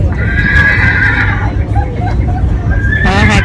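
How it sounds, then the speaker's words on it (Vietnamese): A horse neighs loudly with a long whinny, then gives a second shrill whinny near the end. Hooves clop and a crowd murmurs steadily underneath. "Con ngựa nó kêu it's a horse."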